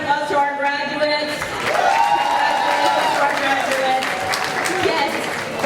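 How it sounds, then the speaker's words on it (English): A crowd at a Black graduation celebration applauds and cheers for the graduates, steady clapping and crowd noise rising after the first second, while voices carry over the top. "Can we give a big round of applause to our graduates?"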